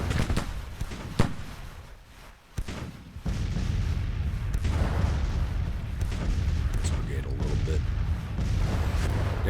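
Musket volleys and cannon fire in Ultimate General: Civil War, a brigade firing at rifle range, heard as sharp scattered cracks and booms over a steady roar of battle, with a few louder reports early on.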